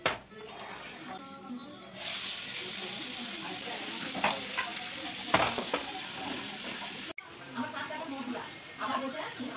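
Fish curry cooking in a home kitchen pan, with a steady sizzle and frying hiss and scrapes of stirring running throughout, joined by a brief clatter and some background talk.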